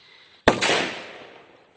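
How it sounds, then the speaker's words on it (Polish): A half-gram firecracker goes off outdoors with one sharp, loud bang, heard from a few metres away. A quick second crack follows, and the blast rumbles as it slowly decays, with no talking. "spoko petarda, tym bardziej, że pół grama, a wali, wali konkretnie"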